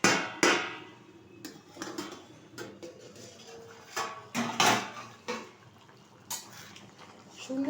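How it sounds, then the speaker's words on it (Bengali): A metal lid lifted off a cooking pot of chilli chicken: sharp clinks and clatters repeated at irregular intervals, close and fairly quiet, with softer handling knocks between them. "ঢাকনাটা তুলে দিচ্ছি।"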